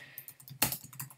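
Brief burst of keyboard typing, a quick run of clicky keystrokes with one louder cluster midway, close and alone.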